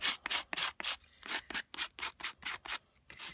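Scraping across a mixed media surface, roughly a dozen rhythmic rasping strokes in quick succession, close and fairly quiet, with no voices.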